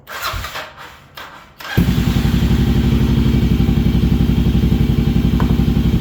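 A Kawasaki KLR 650 motorcycle engine cranks and then catches, settling into a loud, steady, rapid idle on choke, close by with no talk.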